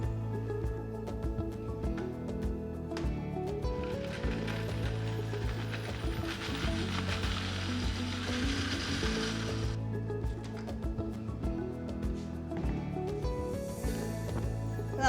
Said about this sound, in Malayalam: ഇതെല്ലാം കൂടെ ഒന്ന് ബ്ലെൻഡ് ചെയ്തെടുക്കാം.